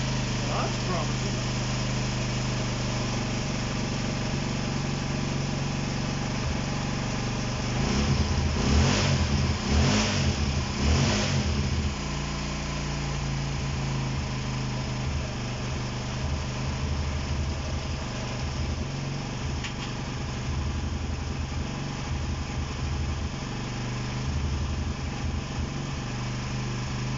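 A Honda CB125 RS motorcycle engine runs steadily nearby with its choke removed, idling with an uneven putter and a short burst of revving partway through; someone speaks briefly over it.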